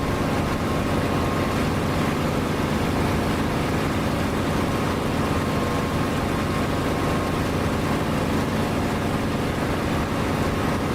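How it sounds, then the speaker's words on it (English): A steady, unbroken aircraft engine drone in a flight simulator game, with the canopy open, fills the clip, loud and constant, with a low rumble and no changes in pitch or rhythm. "I just like the sound of this engine"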